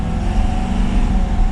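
A 2022 Ford F450 Lariat Super Duty pickup, running empty, pulls forward under light throttle with a steady, loud low engine drone and a faint whine carried through the cabin.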